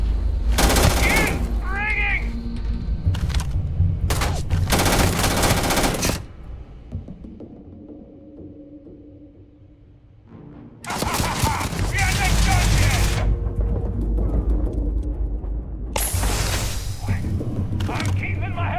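Bursts of automatic gunfire rattle in Starfield, loud and rapid in several separate volleys with a quiet lull in the middle before the shooting resumes, mixed with short electronic chirps.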